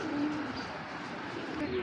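A Tota Bagha cock pigeon gives a brief low coo against a constant hiss of background noise, heard nearby and fairly faint.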